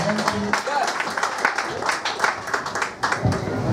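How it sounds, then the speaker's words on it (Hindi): Audience applause with music playing underneath at a business event in Kota, steady clapping from a seated crowd with a voice briefly heard over it. "एक बार खड़े होकर जोरदार तालियां म्यूजिक के साथ में तालियां दीजिए आप"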